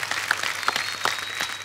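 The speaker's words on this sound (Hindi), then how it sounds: "इनके लिए एक बार ताली बजाइए" A studio audience at a comedy talk show applauds, a dense, steady wash of clapping from many hands that fills the whole moment.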